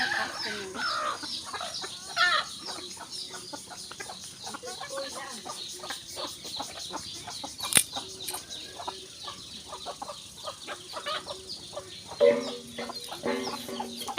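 Free-range chickens cluck steadily at close range as they are fed in the afternoon, with a few louder squawks and a faint crow among the flock's continuous chatter.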